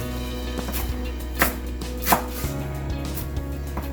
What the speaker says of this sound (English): it should be very easy to chop all the cilantro leaves